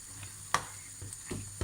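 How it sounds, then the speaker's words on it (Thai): Quiet sizzling and bubbling of a pot boiling over while cooking fish maw soup with crispy pork, with a few sharp crackles and spits. "เดือดแล้วล้นหม้อมากเลย"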